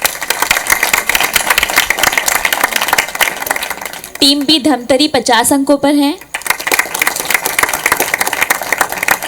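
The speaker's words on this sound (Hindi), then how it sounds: "जोरदार तालियां" Loud audience applause at a current-affairs quiz show semi-final, a dense steady roar of clapping that fills the clip before and after a brief stretch of a woman announcing team scores.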